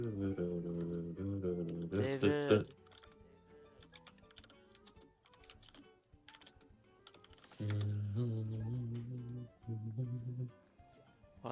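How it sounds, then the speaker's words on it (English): Rapid clicking of a computer keyboard runs under voiced speech and singing-like tones during an online stream, a steady close tapping that continues through the pauses in talk. "I can hear typing."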